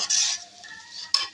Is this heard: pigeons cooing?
no